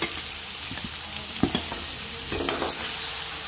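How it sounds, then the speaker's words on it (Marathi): Mutton being stirred in a pan with green chilli, ginger and garlic paste, a steady low sizzle under a few sharp scraping knocks of the spoon against the pan, close and moderately loud with no voices. "चांगलं हलवून घ्यायचं. हिरवी मिरची, आलं, लसूण पेस्ट टाकून घेऊया."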